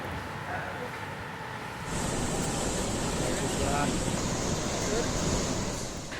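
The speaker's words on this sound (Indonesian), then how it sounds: "banjir lahar dingin Semeru susulan Minggu siang kembali menerjang hilir sungai Curah Kobokan" A cold lava flood (lahar) from Mount Semeru rushes down the Curah Kobokan river, a steady broad roar of churning water and debris, louder and fuller after the first couple of seconds, with a high whine over it.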